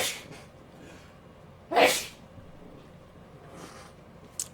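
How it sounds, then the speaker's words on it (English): A single loud human sneeze bursts out about two seconds in, short and close, against a quiet room background. "I'm leaving the sneeze in."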